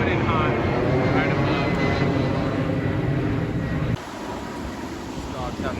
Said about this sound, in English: Delta flight coming in hot,